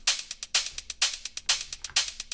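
Hi-hats made in Ableton for modern techno, run through subtle drive distortion that adds a slight crunch, play in a steady, close pattern of crisp bright hits with regular accents and no voices.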